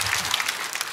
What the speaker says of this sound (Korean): 그러니까 이해 안 돼도 일단 박수부터 쳐봐.